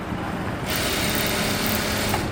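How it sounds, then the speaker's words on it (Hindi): Sewing machine running steadily while double-stitching along a trouser zip, a continuous close mechanical whir that starts a little in and holds loud to the end, with no talk. "अब यहाँ से भी डबल सिलाई लगाएंगे"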